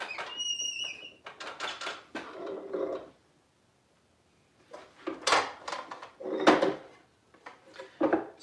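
A wooden drawer with a sagging side scrapes against plywood as it slides in and out, giving several short, close rubbing bursts separated by a silent pause.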